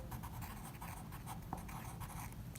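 Pen or marker writing out complex-number division during an algebra lesson, a faint continuous scratchy stroking with small taps, quiet and close, no voice.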